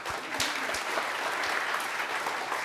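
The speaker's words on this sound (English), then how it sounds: "big applause for our last speaker of the day before our closing remarks" A conference audience at JupyterCon 2023 lightning talks claps for the day's last speaker: dense, sustained applause from a full room, even and continuous throughout.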